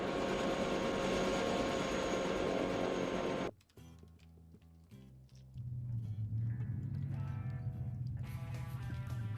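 A helicopter flies overhead in a multiplayer PvP shooter video game, a steady loud engine and rotor drone that cuts out briefly and then returns at full strength.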